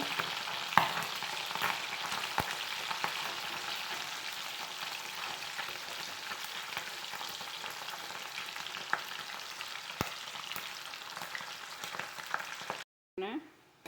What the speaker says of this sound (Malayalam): ബീഫ് വറുത്ത് വന്നിട്ടുണ്ട്